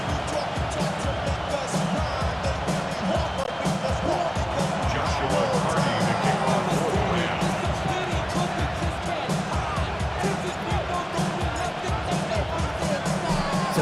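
In Madden NFL 26, a Ravens-Rams stadium crowd in Baltimore roars and cheers before kickoff, a dense sustained wash of noise under a broadcaster's commentary.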